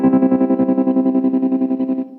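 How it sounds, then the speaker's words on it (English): Electric guitar through a pedalboard tremolo effect, a sustained chord throbbing in fast, even volume pulses for about two seconds, loud and alone. "Then I have a tremolo."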